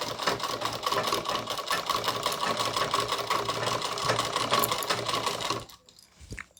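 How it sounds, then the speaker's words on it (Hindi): Domestic sewing machine running steadily, stitching a heavy cancan net layer into a lehenga with a rapid, even mechanical clatter that stops abruptly near the end, leaving a few faint handling noises. "इस कैन को सिलते हुए इसके साथ मिला देंगे।"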